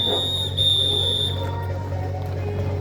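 A referee's whistle gives a sustained high-pitched blast for about a second over a steady hum of crowd noise at a Gobak Sodor match, then cuts off.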